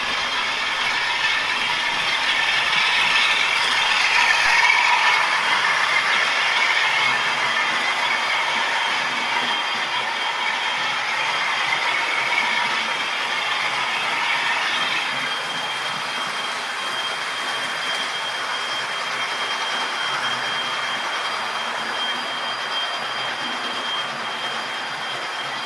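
Model railway with a class 47 locomotive and an HST running round a layout in a loft, giving a steady mechanical whirring and rail clatter that carries on without a break and eases slightly as the trains slow and stop.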